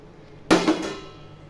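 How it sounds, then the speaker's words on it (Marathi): Water splashed into a hot pan of fried ground dal zunka with besan gives a sudden loud sizzling hiss that flares up and fades within about a second. "तर थोडंसं पाणी टाकते"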